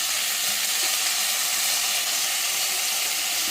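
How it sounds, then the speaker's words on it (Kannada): Garlic, onion and chopped vegetables fry in hot oil for fried rice, giving a loud, continuous, close sizzle with a steady hiss and no pauses. "ಎಣ್ಣೆ ಹಾಕಿದ್ದೀವಿ, ಅದಕ್ಕೆ ಗಾರ್ಲಿಕ್ಕು ಮತ್ತು ಈರುಳ್ಳಿ ಹಾಕಿದ್ದೀನಿ ಸಣ್ಣದಾಗಿ ಹೆಚ್ಚಿಬಿಟ್ಟು."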